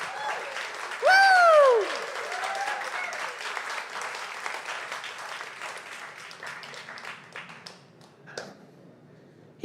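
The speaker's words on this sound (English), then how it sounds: "Another round of applause for Jamie Lula." An audience at a church service breaks into sustained applause, a dense wash of clapping that fades gradually, cut by a sharp whooping whistle near the start.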